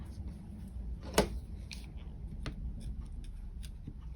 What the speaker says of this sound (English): Yes, I'm just going to cut this